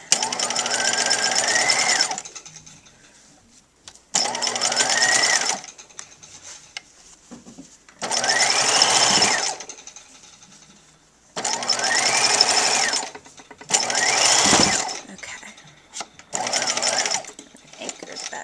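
A sewing machine stitches the sleeve of a tailored women's coat in five separate loud bursts of rapid whirring, each lasting a couple of seconds with the pitch ramping up, separated by short quiet pauses.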